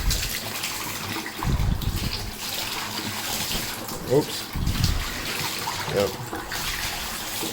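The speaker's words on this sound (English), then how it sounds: "I just turn my water on and hold it up to the water" Tap water running over a soapy cloth mousepad held under the faucet, a continuous splashing gush with uneven bursts as the pad shifts, while a person briefly speaks.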